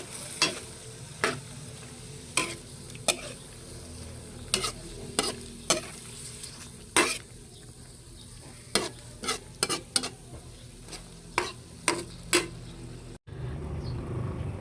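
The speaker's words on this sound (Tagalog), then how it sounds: "Kailangan pong hahaluin." Squid adobo with string beans being stirred in a frying pan: a steady sizzle underneath sharp, spaced scrapes of a utensil against the pan, repeating roughly every half second to second, close and clear, no talk.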